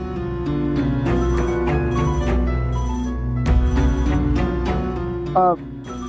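A phone ringtone plays steadily and loudly throughout, a repeating electronic melody with no talking over it.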